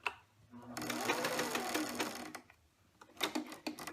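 A sewing machine stitches fabric for a Minnie Mouse pillowcase dress, running in a fast, close, whirring burst of about two seconds, then stopping and restarting in short, stuttering bursts.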